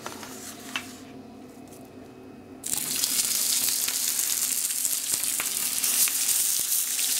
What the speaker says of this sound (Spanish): Vamos a freír nuestras chuletas por ambos lados.